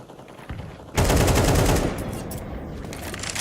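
Rapid automatic gunfire in Counter-Strike 2 during a PGL RMR tournament match: loud bursts of fast shots erupt and sustain, with quieter shots before and a commentator's voice underneath.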